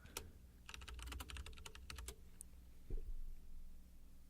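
Fingers type on a computer keyboard in a quiet room, a quick run of crisp key clicks followed by a few isolated taps.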